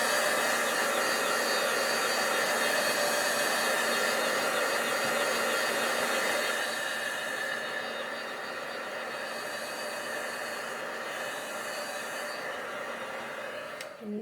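A handheld hair dryer blows a steady, loud whooshing whine close by while drying stamped ink on a craft project, its tone shifting slightly midway as it is moved.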